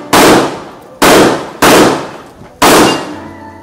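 Four loud, close gunshots from a Taurus G3 pistol at an outdoor long-course shooting range in Silang, each a sharp crack with a short ringing tail, fired at uneven intervals.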